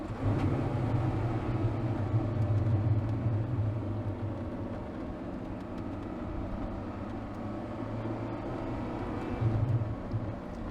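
A Zenvo TSR-S hypercar engine in race mode, shifting between about 3,000 and 4,000 rpm, gives a steady, fairly faint low rumble heard from inside the cabin, with slight rises as the gears change.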